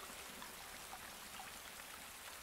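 Steady rain falling outside, a continuous hiss of drops pattering on surfaces with no voices, holding at an even level throughout.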